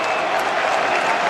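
A football stadium crowd of over 50,000 at Port Adelaide versus Adelaide, 2024 round 23, a loud, dense wash of cheering and applause with commentary over it.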